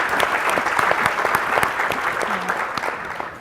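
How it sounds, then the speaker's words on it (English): Luncheon audience at a health leadership awards event gives the hotel staff a short round of brisk, crowded clapping with sharp individual claps standing out, fading slightly toward the close. "If we can just very briefly just clap it up for the hotel staff and their"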